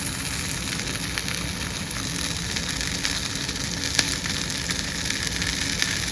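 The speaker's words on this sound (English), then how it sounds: "The sizzle." A cheese sandwich on brown bread sizzles steadily in a hot pan, a constant dense crackling hiss that stays even and close throughout with no talking.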